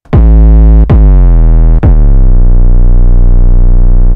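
Deep 808 bass notes on an Akai MPC with portamento set, three loud sustained hits whose pitches slide smoothly into one another, the last note held for a couple of seconds.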